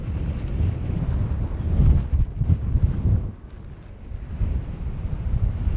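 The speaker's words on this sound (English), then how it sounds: "It's very windy. I can barely hear myself talk, it's so windy." Heavy wind buffets the microphone at the Belmont, Nevada ghost town in loud, continuous rumbling gusts, with a brief lull partway through before the roar builds again.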